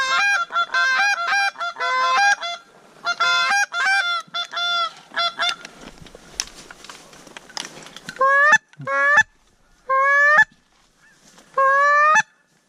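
Late-season geese honk loudly and close during a hunt, with repeated rapid calls in clustered bursts, a brief noisy gap in the middle, then spaced single honks toward the end.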